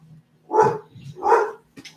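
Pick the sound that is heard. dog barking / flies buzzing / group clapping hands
dog barking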